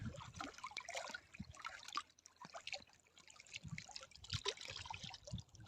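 Quiet trickling and splashing of water falling runs steadily with soft irregular drips, heard alone from a distance in a village.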